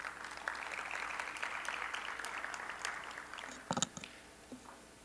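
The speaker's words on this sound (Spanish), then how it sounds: "para quien también solicito un fuerte aplauso" Applause from attendees at a medical association plenary session, moderate and steady for a few seconds, fading as a few louder claps and a cough or knock stand out near the end.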